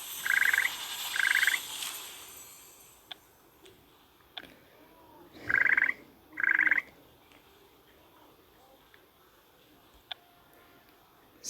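Four short, bright croaks from chocolate frogs in the Harry Potter game Hogwarts Mystery come in two pairs, one pair near the start and one pair later. A faint game ambience plays underneath, and no one speaks.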